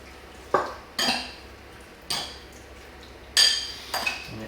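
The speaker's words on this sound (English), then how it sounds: "Now we just mix all this up real good." A spoon scrapes and clinks against a pan while kung pao pheasant ingredients are mixed with sesame oil, sharp separate knocks and scrapes coming in an uneven rhythm, close and clear with no talking.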